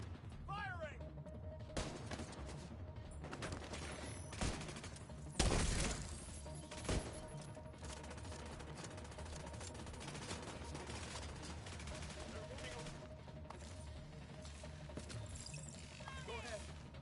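Gunfire in The Division 2 on PS5, with scattered bursts and single sharp shots amid game noise, one louder crack standing out near the middle, and voices calling out over the action.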